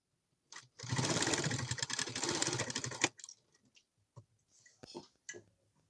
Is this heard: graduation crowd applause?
no